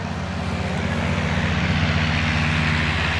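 A World War I fighter airplane's piston engine climbing out at an airshow at Rhinebeck Aerodrome, a steady, droning roar that holds at a fairly constant level, with no voices over it.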